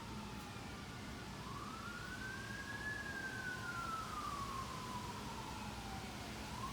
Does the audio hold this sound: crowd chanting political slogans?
no